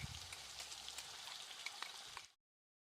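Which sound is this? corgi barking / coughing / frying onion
frying onion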